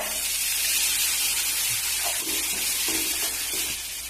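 Soaked chana dal sizzles steadily in hot oil with softened onions, curry leaves and asafoetida, a dense continuous hiss with faint stirring scrapes, close and alone without talk.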